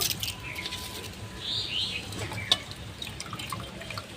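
Washed rice drained through a sieve, with water trickling and dripping close by in a soft, steady flow broken by a few small splashes.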